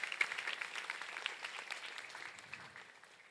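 Faint applause from an audience for the costumes and props team at a stage production, a soft patter of claps that thins out and fades away.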